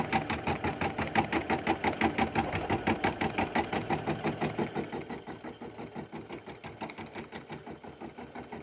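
A home embroidery machine runs on its own, sewing a satin-stitch border around a small dress design, its needle chattering in a steady, fast rhythm that stays close and even throughout, with no voices.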